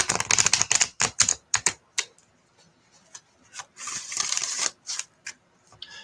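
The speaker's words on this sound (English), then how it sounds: "I'll do one more shuffle here" A deck of oracle cards is shuffled close by, giving rapid riffling and rubbing bursts separated by short pauses, with a longer slide of cards near the end.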